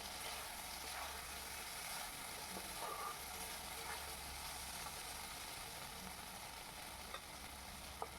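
Spices frying in a pan for a Bengali dhiras do pyaza curry, a soft continuous sizzle with faint stirring clicks, quiet and steady with no talk.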